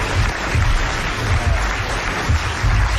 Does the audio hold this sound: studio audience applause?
yes